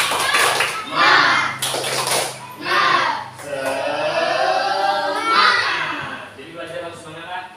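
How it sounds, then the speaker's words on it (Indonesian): Children in a Qur'an lesson clap a rhythmic spirit chant in bursts at close range, the claps mixing with young voices and a busy room. "tepuk semangat"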